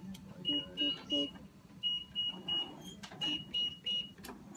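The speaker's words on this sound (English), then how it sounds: "Beep, beep, beep." An electronic hospital alarm beeps in groups of three, shrill and repetitive, repeating several times over faint background noise and murmuring.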